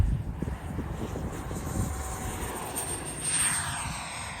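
A twin 64mm EDF MiG-29 model jet launches outdoors, the ducted fans whining steadily at a high pitch over gusty wind rumble, and the roar swells toward the end.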